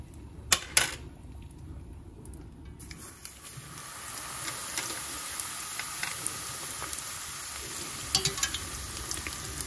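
Wontons deep-fry in very hot oil over low heat, a steady soft sizzle and crackle close by, punctuated by sharp clinks of utensils against the pan.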